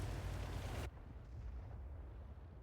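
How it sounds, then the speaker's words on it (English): A tank shell strikes a rock face in an AMX 13 F3 AM tank battle game, a loud broad blast that cuts off abruptly into a low rumbling tail. "Oh, the shell did not get close, that one. Hit the rock face instead."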